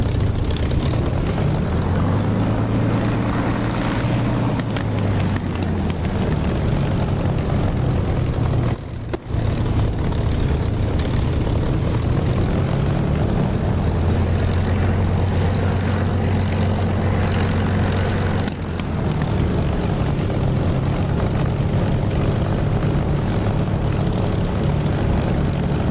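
A simulated aircraft in the DCS flight simulator taxis along a runway, its engine a steady, loud drone that wavers slightly in pitch throughout. A brief dip in the sound comes twice, and no one speaks.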